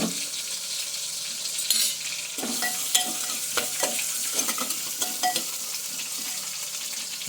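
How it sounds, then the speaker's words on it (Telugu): Tomatoes fry in a pan for a home-style Telugu vegetable curry, giving a steady soft sizzle throughout with repeated scraping and clinking of a spoon stirring them, and no speech. "టమాటాలు బాగా మగ్గనిద్దాం."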